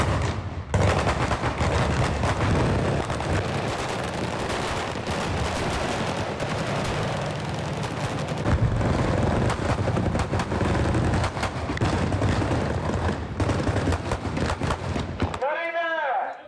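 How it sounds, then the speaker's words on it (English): Rapid bursts of special-effects gunfire and heavy booming explosions on a film set roar continuously for a long stretch, loud and close, then cut off abruptly, leaving a brief voice. "this world of big special effects and explosions"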